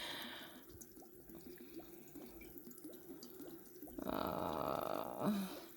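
Vodka pours slowly from a bottle fitted with a small spout in a steady, soft liquid trickle that swells into a fuller, louder stream for the final couple of seconds, with no talking.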